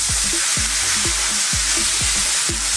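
Minced beef frying over high heat with onions, garlic, ginger and spices gives a steady, loud sizzle, with soft low scraping thuds as the mixture is turned over and over.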